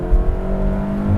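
A 2019 Honda Civic Si engine during a paddle downshift gives a loud, close, steady tonal drone with a slight swell in revs and a low rumble beneath.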